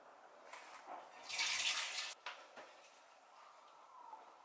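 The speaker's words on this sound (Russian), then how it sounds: "Берем ситечко и сцедим лук из воды." Soaked chopped onion is poured from its water through a sieve, giving a short burst of splashing and trickling in a quiet kitchen, followed by a few faint drips.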